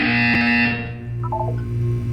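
In the video game Portal, an electronic tone holds steady and then cuts off. A short run of quick higher beeps follows over a low, sustained background hum, with no speech.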